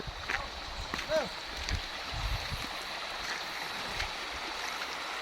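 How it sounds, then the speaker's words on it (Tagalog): A river in Albay, Philippines, near Cagbulacao and Bacacay, flows with a constant rushing wash and occasional splashes, while people talk nearby. "Ito ang ilog. Ang sarap pakinggan no"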